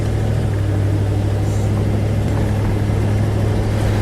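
Continuous low drone of a 1978 Ford Mustang II King Cobra's 302 V8 while driving, a steady engine hum with road noise and no talk over it.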